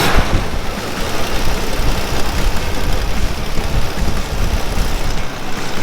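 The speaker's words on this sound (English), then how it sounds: "we got this pacer to run for the first time in 20 years" A 1977 AMC Pacer engine runs for the first time in twenty years after sitting in a museum collection, a loud, steady, rough rumble filling the whole stretch with no voices.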